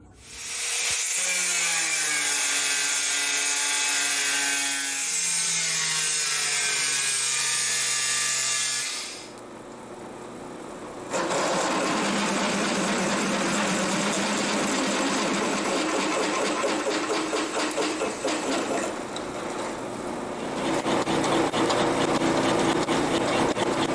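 A steel plate being cut in a workshop, a loud, continuous high whining machine noise that shifts pitch, drops off briefly, then resumes as a rough, grinding cut.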